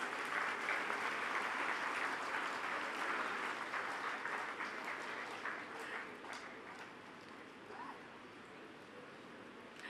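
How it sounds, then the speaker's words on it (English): An audience at a university convocation ceremony applauds in a sustained, dense wash of clapping that slowly fades a little. "Please give them a round of applause"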